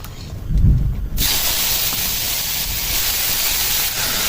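A sudden loud hiss erupts as vegetables hit hot oil with black cumin, then settles into a steady, close sizzle that continues without pause.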